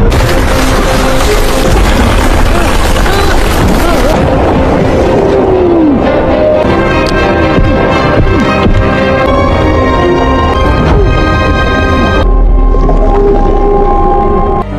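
A big underwater explosion in an animated film: a loud, dense booming roar fills the opening seconds, then thins into a sustained rumbling wash with ringing tonal layers carrying on to the end.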